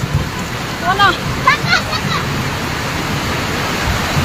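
Floodwater rushes through a residential area as a constant loud roar, with a voice speaking briefly over it near the start.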